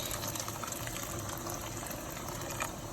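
Boiling water poured into a pot of spiced rice, a continuous splashing, gushing pour close up and moderately loud, without talk.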